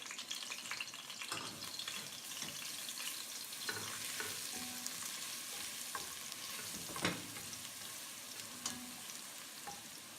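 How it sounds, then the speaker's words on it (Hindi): Sliced onion and chopped garlic sizzle in ghee in a pan, a steady crackling fry stirred now and then with scraping clinks, moderately quiet with no voices. "पैन में घी डालकर इसमें स्लाइस प्याज डालकर हल्के गोल्डन करके इसमें चॉप लहसुन डाल लें।"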